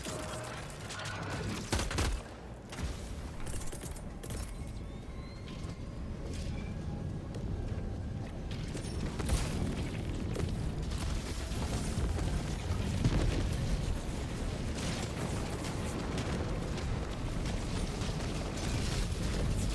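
Rockets fire and explode in a Marvel superhero video game, a dense, loud, continuous barrage of booms, blasts and rattling mechanical noise lasting throughout with many sharp impacts.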